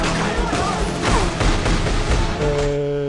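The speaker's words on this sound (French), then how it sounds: "ils sont pas un peu pourris les effets spéciaux sur les coups de feu là?" Cheap-sounding gunshot effects from an action-film gunfight scene: a rapid, dense series of loud cracks and thuds over a busy soundtrack, ending with a sustained tonal sound.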